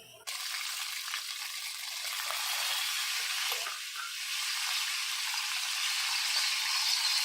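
Onions and masala fry in a pan for mutton pulao, giving a steady, loud, close sizzle that runs the whole time with slight swells and no voices.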